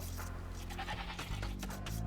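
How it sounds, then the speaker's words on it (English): A goat in the Age of Empires II video game gives a couple of short, quiet bleats over a low steady game background hum. "Yeah, goats."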